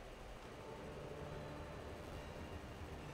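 A train running in the video game Alice: Madness Returns, a continuous low rumbling rush of wheels and carriage noise, steady and faint with no voices.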